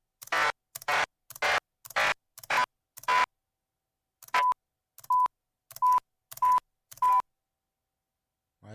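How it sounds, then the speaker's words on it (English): A series of short electronic beeps sounds alone in a quiet room, about ten evenly spaced tones with a brief gap midway, clear and moderately loud. "Why is there a beep?"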